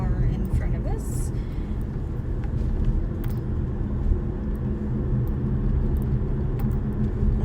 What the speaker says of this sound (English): here comes a car in front of us